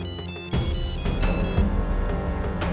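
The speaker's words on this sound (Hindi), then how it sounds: "घंटी गई।" A telephone ringtone plays continuously, a bright repeating electronic melody that suddenly gets louder and fuller after a brief quiet opening.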